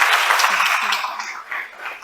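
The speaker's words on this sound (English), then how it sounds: "So can I have a big round of applause for him as we welcome him to the stage?" An audience at a quantum computing workshop session claps to welcome a professor, a short round of applause mixed with some chuckles and voices, fading toward the end.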